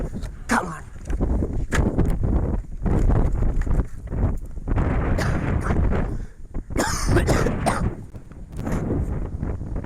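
Several harsh coughs from a person with a two-week cough and cold burst out in irregular bouts, close and loud, with short pauses between them.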